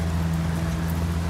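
Heavy rain pours down in a steady, dense hiss with a low constant hum underneath, heard alone for a brief moment.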